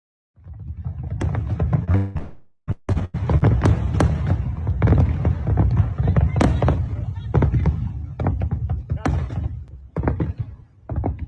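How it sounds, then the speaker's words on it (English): A fireworks display after a presidential speech, seen from the World War II memorial, gives a dense run of loud booms, thuds and crackling bursts over about ten seconds, with a brief lull early on. "Watching the fireworks display after the president concluded speaking."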